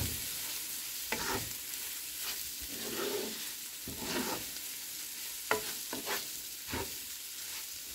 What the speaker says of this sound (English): Stir and cook until they become very white.